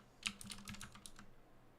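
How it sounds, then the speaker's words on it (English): Keys clatter on a computer keyboard in a quick, uneven run of soft clicks lasting about a second, quiet and close with no voices over it. "Are you typing in the chat, Kyle?"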